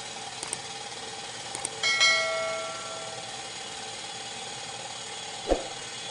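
A restored 1940s Craftsman drill press mills cast iron with a shallow cut while a shop vac runs, making a steady, even mechanical whir with faint ticks and a brief thump near the end.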